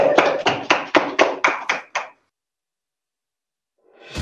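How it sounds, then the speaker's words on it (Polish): Short burst of applause for winners at a gala finale, about eight sharp rhythmic claps over two seconds, then silence, with a faint clap rising again at the end. "Wielkie brawa."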